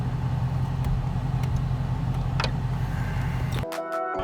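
A car engine runs with a steady, close, loud low rumble and a few faint knocks over it, then cuts to a different tonal hum near the end.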